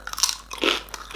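Bites into thick, double-baked garlic and herbs pitta chips, a quick run of loud, close crunches with no talking.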